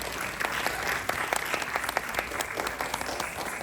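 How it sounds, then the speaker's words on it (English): An audience applauds girls after their dance performance of a Jati Swaram with intricate footwork at an annual day event: steady, dense clapping with sharper individual claps standing out, continuing throughout. "Let's give these girls another round of applause."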